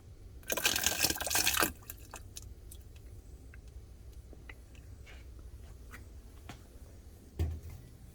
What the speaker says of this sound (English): We're going to carefully pour it in through here